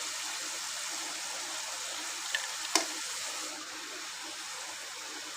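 Ridge gourd frying in oil gives a steady, even sizzle that stays close and constant, broken by one brief clink partway through.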